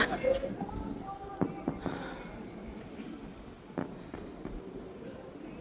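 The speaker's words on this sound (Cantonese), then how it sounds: "而家我哋睇緊煙花。" Fireworks crackle and pop irregularly in the distance at Shuangyue Bay, Huizhou, over a noisy background, with people talking and exclaiming.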